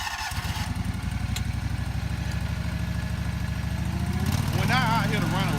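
A greens mower is cranked up on university grounds, its engine settling into a steady, close idle with a low rhythmic chug, then revving higher toward the end, while someone talks over it.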